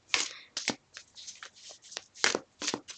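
Tarot cards being shuffled by hand, close and crisp: a series of quick riffling bursts and slaps in an uneven rhythm, with quiet gaps between.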